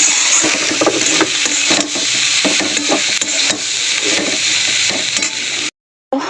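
A pan of browned food frying after turmeric is added: a loud, steady sizzle with intermittent scraping and stirring clatter, cutting out abruptly to near silence just before the end and then resuming.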